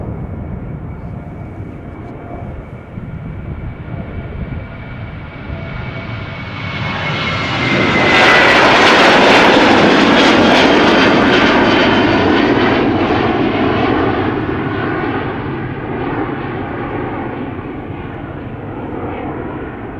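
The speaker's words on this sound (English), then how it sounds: "we have a narrow body coming our way. Going to Bergen, KLM flight 1185," A KLM Boeing 737-800 narrow-body jet passes at Schiphol Airport, its engine roar building from a distant hum to a loud, close peak midway, then slowly fading as it moves off.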